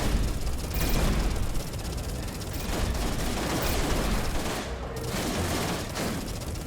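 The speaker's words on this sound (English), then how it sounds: "So I equipped my autocannon instead of the beam laser because I need something that will do more kinetic damage" An autocannon fires in the space combat game Everspace 2, a rapid continuous barrage of loud kinetic shots with a few heavier bursts, close and dense throughout with no talking.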